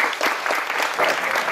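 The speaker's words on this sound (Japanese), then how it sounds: "お拍手をお送りください" A crowd at a Japanese press event applauds steadily, dense clapping filling the whole moment at close range without pause.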